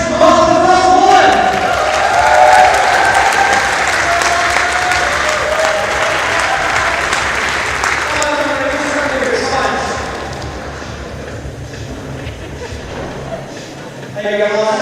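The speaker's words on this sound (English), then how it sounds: "please give a massive round of applause" A large crowd applauding and cheering at a bouldering championship final, loud dense clapping with shouts and a voice over the top, gradually thinning out near the end.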